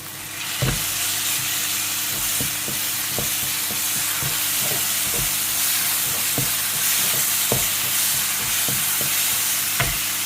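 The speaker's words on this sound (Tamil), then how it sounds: "வெங்காயம் நல்லா வதக்கிக்கலாம் வெங்காயம் கத்திரிக்காய் பிடிச்சி நல்லா வதங்கி" Onion and eggplant sauté in a pan with a continuous loud sizzle, punctuated by repeated knocks and scrapes of a spoon stirring at an irregular pace; no one speaks.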